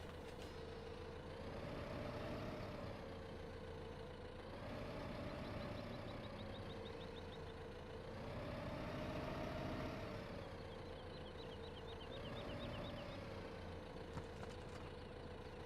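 A tractor engine runs steadily in Farm Simulator 15, a continuous low mechanical drone that swells and eases in slow waves as the machine works, with faint high chirps of reversing beeps drifting through and no talk.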